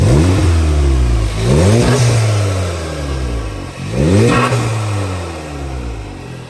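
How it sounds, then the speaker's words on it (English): A turbocharged car engine revs twice from idle, heard from the intake, each rise climbing sharply with intake whoosh and turbo whistle, then falling back to a steady rumble. "Let's go over here and get some intake sounds."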